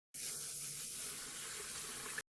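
Steady rushing water, like a shower running, a continuous broadband hiss held for a couple of seconds with a clean start and stop, no voices.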